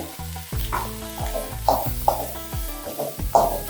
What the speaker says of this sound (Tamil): லைட்டாக உப்பு போட்டுக்கலாம் வெங்காயம் வதங்கிறதுக்காக